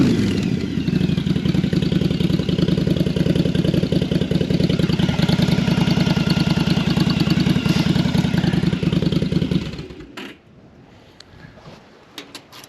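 A Jocker Bobber motorcycle engine runs loud and close with a steady clattering idle and occasional backfire pops for about ten seconds, then cuts out, leaving faint clicks and ticks.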